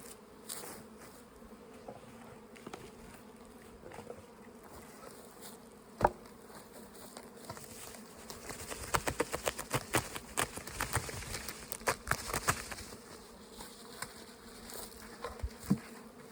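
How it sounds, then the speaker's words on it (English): A honey bee colony in a hive box hums with a steady, dense buzz, close by, with brief sharper bursts and bees flying past the listener throughout. "That is a nice colony, box of bees."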